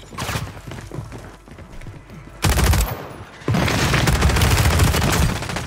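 Rapid automatic gunfire in a multiplayer shooter game, with bursts of sharp shots, a brief lull, then a sustained loud barrage of continuous fire near the listener.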